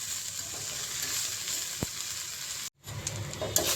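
Onions sauté in a pan until golden brown for a small batch of channa masala, sending up a steady, close sizzle broken by a brief stir and a moment of quiet.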